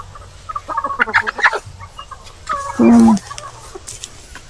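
A large Muscovy duck on a farm flapping its wings, a burst of heavy flapping late in the clip among scattered clucking farm-bird calls.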